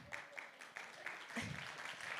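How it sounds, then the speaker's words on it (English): Applause from a town hall audience for Youth Assembly members, a short burst of steady clapping close by with no talk over it. "give them a round of applause"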